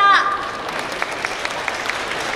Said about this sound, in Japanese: 皆さん盛大な拍手でお送りくださいませ